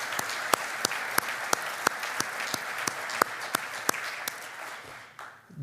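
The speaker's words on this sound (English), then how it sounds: "Let's all give Dan a round of applause as he gets up here." Steady applause from an audience, dense clapping with a few sharp louder claps standing out, fading toward the end.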